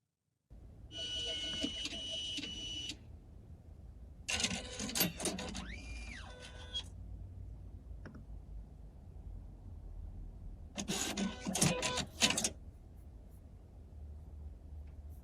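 Money printer sound effect: three separate bursts of mechanical printer whirring and clattering, each a couple of seconds long, with a rising whine in the middle burst and quiet gaps between.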